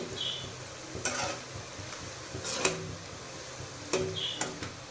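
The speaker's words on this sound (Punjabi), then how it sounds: "ਪਹਿਲਾਂ ਨਾ ਮੈਂ ਤੇਲ ਕੇ ਵਿੱਚ ਗਰਮ ਕਰਕੇ ਕੱਲੇ ਕਰੇਲੇ ਹੀ ਤਲਾਂਗੀ" Bitter gourds frying in hot oil, a low steady sizzle broken by a few sharp clinks and scrapes of a utensil against the pan, close and with no talking.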